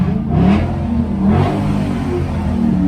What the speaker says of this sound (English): We got the exhaust on